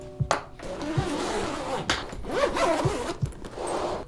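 Zippers on Tumi travel bags are pulled open in several quick separate zips, close and crisp, with soft rustling and handling of the fabric between them.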